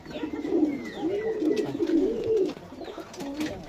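Several pigeons coo close by in soft, rolling, repeated calls as they go into their loft once the door has been opened.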